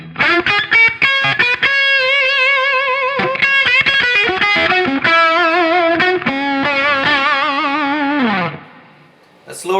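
A 1967 Gibson SG electric guitar plays through a vintage 100-watt Marshall head and a 4x12 cabinet, close and loud, with sustained distorted notes and chords in quick phrases that fade out near the end.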